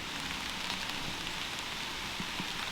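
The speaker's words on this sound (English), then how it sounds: "oh no, it's starting to rain" Rain begins falling outdoors, a steady soft hiss of drops pattering on surfaces, with a few faint taps near the end.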